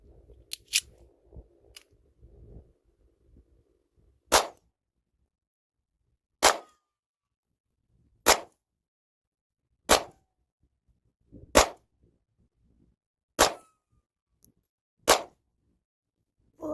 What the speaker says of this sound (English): So let's fire it, make sure that if I ever need it, I can use it.